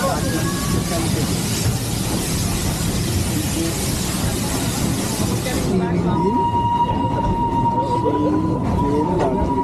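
The Darjeeling toy train pulls out of the station with a loud, broad rumble and rattle of rolling cars. The roar then drops away to thinner rail noise with a sustained squealing tone and scattered clanks.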